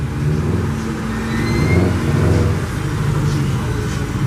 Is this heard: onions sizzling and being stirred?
no